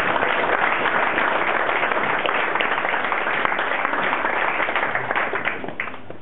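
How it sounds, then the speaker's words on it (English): A wedding reception crowd gives the bridesmaids a sustained round of applause, a dense, even wash of many hands clapping that fades slightly at the end. "please a round of applause for the lovely bridesmaids"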